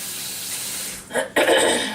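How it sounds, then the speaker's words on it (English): A kitchen tap runs while an onion is rinsed under it, a steady water hiss broken briefly before splashing resumes, close and fairly loud with no talk. "Washing off the onion."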